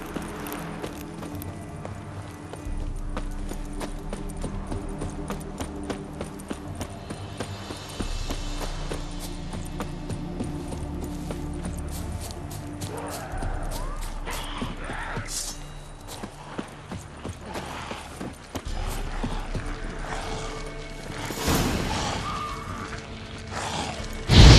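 Horse hooves clip-clop steadily in The Witcher 3 Next Gen Update, a rapid rhythmic patter under a game music bed with a fainter clatter near the end.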